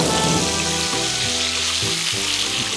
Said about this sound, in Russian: Дальше готовим при открытой крышке и часто помешивая и перемешивая болгарский перец, мясо, лук, зелень